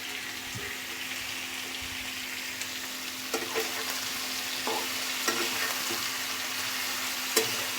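Slit green chillies frying in oil over a low flame while cooking amla pickle, giving a continuous soft sizzle with occasional light clicks and spoon taps, close and quiet, with no voices.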